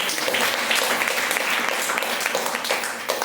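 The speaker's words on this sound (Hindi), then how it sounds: "एक जोरदार तालियां इनके लिए।" Audience applause at a marketing plan presentation honouring a company founder, loud, dense clapping from a large crowd, steady and unbroken throughout.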